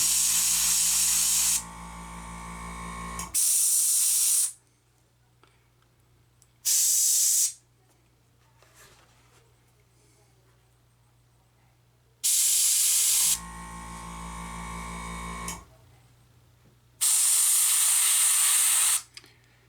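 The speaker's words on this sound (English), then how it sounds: "Just have to be careful not to get too trigger happy with the airbrush and end up making really black shapes" An airbrush sprays paint onto a model ship in loud, sharp hissing bursts of a few seconds each, separated by near-silent pauses, in a repeating on-off pattern.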